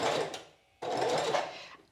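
A sewing machine stitching fabric toward a corner; a close, even whirring run that stops briefly for about a quarter second, then starts again for a second steady burst, with no talk.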